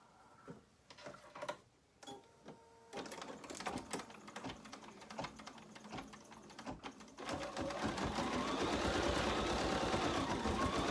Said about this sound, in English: now we're going to stitch out the top part of our instructions with the red thread